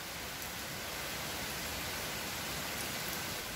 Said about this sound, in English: You guys see that rain coming down?